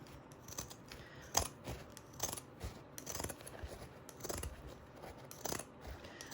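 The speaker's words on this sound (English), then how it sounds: "I am going to Lottie and Dottie with my pinking shears to minimize my fraying all the way around" Pinking shears snip repeatedly through fabric all the way around an in-the-hoop embroidered rain boot zip bag, giving close, crisp cuts in an uneven rhythm with a few sharper, louder snips and no talking.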